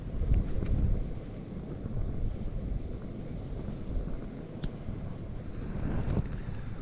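Strong wind gusting across the Glyder range in the Welsh mountains at a wild tent camp, a steady, heavy roar buffeting the microphone throughout, swelling slightly near the start and end, with no voices.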